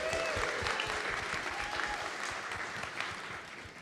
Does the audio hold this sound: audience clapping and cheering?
yes